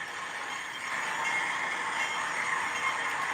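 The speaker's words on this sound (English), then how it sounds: "Have to wait for that hopper to clear the other switch" A model train hopper car rolls over a track switch in a steady, continuous metallic rumble with faint wheel hiss, heard up close and without speech.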